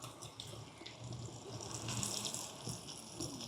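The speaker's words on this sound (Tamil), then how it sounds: "அடுப்பை குறைச்சிட்டு இன்னும் கொஞ்சம் தண்ணி விடுங்க." Water runs into a cooking pot on a stove while a tuna fish curry and rice porridge are being made, a faint continuous trickling pour with no talking.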